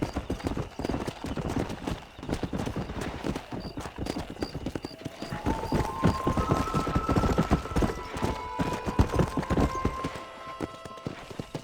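Galloping horse hooves from riding in Red Dead Redemption, a steady rapid clip-clop throughout with a brief whinny, layered over game music and ambience.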